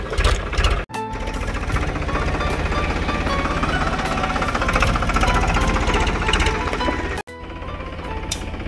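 A tractor engine runs loud and steady with a heavy, knocking mechanical rumble that continues throughout, broken by two brief dropouts.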